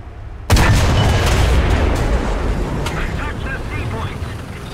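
A German tank cannon fires in War Thunder: one sudden loud boom that leaves a long, dense rumbling tail lasting several seconds, with other battle noise mixed in.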